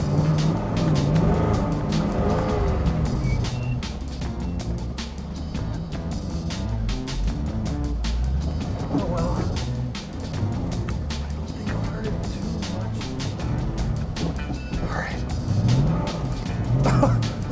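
A loud, rough vintage Aston Martin English Rose sports car engine drones continuously while driving, with rattles and mechanical clatter throughout and a few brief vocal sounds over it.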